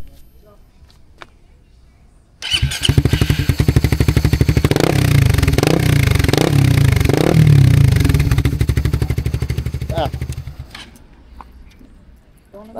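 A Raider FI motorcycle fitted with an A-Racer Mini X Lite exhaust starts up and idles with a loud, close, rapid popping burble, revved sharply four times in a row before settling and cutting off.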